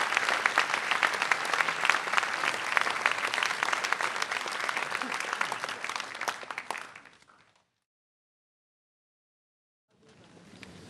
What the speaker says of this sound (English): Please give these students all a round of applause